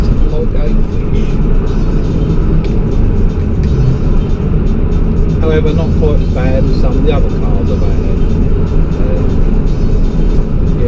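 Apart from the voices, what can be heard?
Ford Focus ST3 car engine while driving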